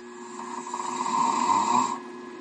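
A wood lathe spins up for bowl roughing and runs at about 300 rpm, making a steady motor hum with a whine that swells briefly and then drops back, close and alone.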